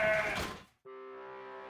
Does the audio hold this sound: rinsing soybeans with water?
no